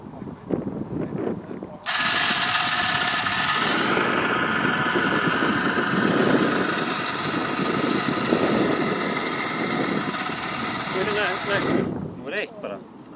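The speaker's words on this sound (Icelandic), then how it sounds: "Hvernig á að halda vélina í startinu." An engine idling at the start of a race gives a loud, steady mechanical drone that holds for about ten seconds before cutting off, with voices talking nearby.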